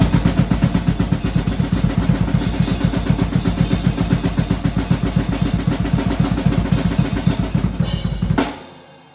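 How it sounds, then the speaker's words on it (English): Fast black metal blast beat on a drum kit, a dense, rapid, even pulse of hits driving steadily at full loudness for about eight seconds before stopping abruptly, with no talking. "if you hear a blast beat, it's gonna be like usually fast"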